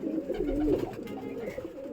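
Young pigeons cooing together in a loft, a continuous murmur of soft, low throaty coos that swells in the middle and then settles, close by and steady for about two seconds.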